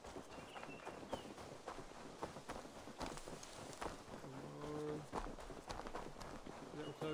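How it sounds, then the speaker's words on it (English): A horse trots in the video game Assassin's Creed Valhalla, quiet rhythmic hoofbeats running throughout while someone talks over them. "horse is pretty fast even though it's literally trotting."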